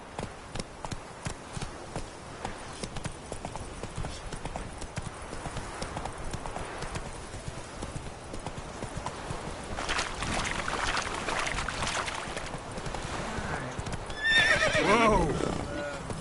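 Roach, a horse in The Witcher 3: Wild Hunt, gallops with steady clip-clop hoofbeats that grow louder and busier, then lets out a sharp neigh near the end, over a continuous game soundscape.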